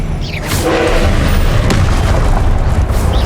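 Confringo fire spell exploding in the Hogwarts Legacy video game: a loud, sustained booming blast with rumbling bursts and whooshes filling the whole clip, no talk.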